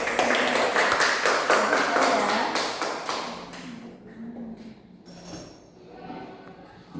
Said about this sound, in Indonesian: berikan tepuk tangan buat Adel ya